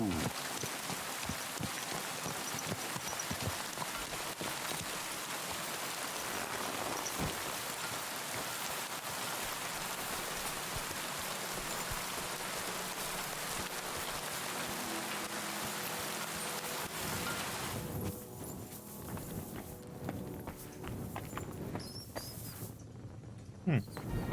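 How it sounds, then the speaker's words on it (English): Steady rain pours in Kingdom Come: Deliverance II, a dense continuous hiss that softens and thins near the end. "Oh, weird, it rains, huh?"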